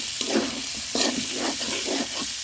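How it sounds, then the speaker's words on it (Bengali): Chopped onion hits hot oil with ginger garlic paste in a pan, raising a steady loud sizzle with repeated stirring scrapes, close and continuous. "এখন দিয়ে দিচ্ছি পেঁয়াজ কুচি দিয়ে দিলাম পেঁয়াজ কুচিগুলো"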